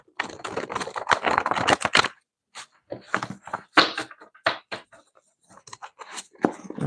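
Quick bursts of crisp rustling and flicking as tarot cards are shuffled, coming in short clusters separated by brief pauses.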